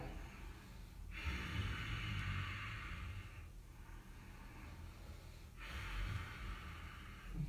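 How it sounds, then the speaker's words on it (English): Deep Ujjayi breaths drawn during an Ashtanga yoga class, heard as two long, hissing breath cycles, one starting near the beginning and another later, close and steady over a low background rumble with no talking. "some deep breathing going on there"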